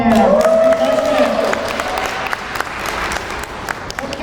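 Audience clapping at a school princess pageant, a dense burst of applause under a voice at first that then thins into scattered, fading claps.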